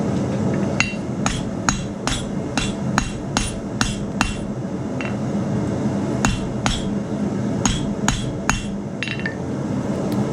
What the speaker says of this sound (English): that's why I was hammering it down, trying to get everything where it fits up good and tight